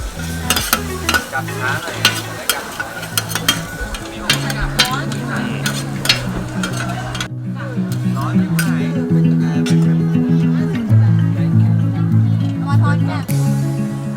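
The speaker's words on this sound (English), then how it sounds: "So actually they cooking just in front of us" Pad thai is stir-fried in a pan at a floating market stall in Bangkok, with constant sizzling and rhythmic metallic scraping and clanking of the spatula, close and loud, while people talk nearby.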